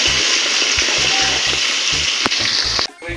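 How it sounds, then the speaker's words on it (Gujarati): Green chillies fry in hot ghee with a loud, continuous sizzle while a spoon stirs them in regular scraping strokes, ending in an abrupt clatter. "લીલા મરચાં નાખી દેવાના પછી બરાબરનું હલાવી દેવાનું"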